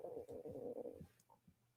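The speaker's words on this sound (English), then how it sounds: "you guys hear my stomach growling on here?" A short, low stomach growl rumbles for about a second, then fades into quiet gurgles, faint and close.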